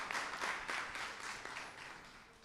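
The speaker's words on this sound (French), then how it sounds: "petit applaudissement" A brief round of applause from a small audience at a school mathematics event, faint and fading over a couple of seconds.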